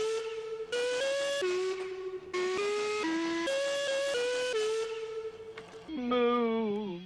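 Loud, sustained whistling in long, steady tones that shift between a few pitches, ending with a wavering, sliding note.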